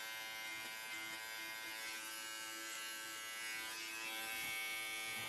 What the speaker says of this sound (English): So I'm using the Andis right here, if you see an Andis trimmer